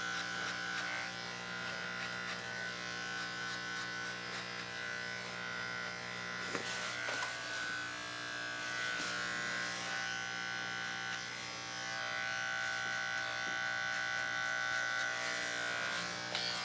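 Close, continuous buzzing hum of an electric hair clipper tipped with a guard, cutting a low fade on dirty blonde hair, steady drone with slight shifts in tone and small clicks as the blades move through hair.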